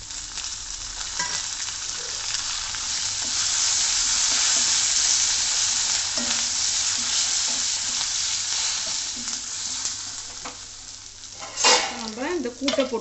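Asafoetida and curry leaves frying in hot oil for a South Indian potato and appalam kootu, a steady bright sizzle with brief stirring scrapes and a sharper crackle near the end.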